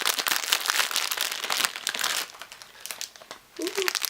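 Plastic packaging on a bundle of Brazilian loose wave hair crinkles and rustles loudly up close as a sticky tab is peeled away, followed by a quieter pause and a short squeak, with someone talking throughout.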